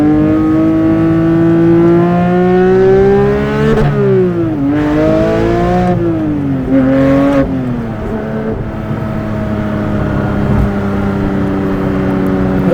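A 2023 Porsche 911 GT3 Touring's 9,000 RPM flat-six engine, mounted behind the cabin, revs hard through rising sweeps with brief dips between gear changes, loud and continuous from inside the car with no talk.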